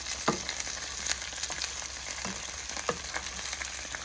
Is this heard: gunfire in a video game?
no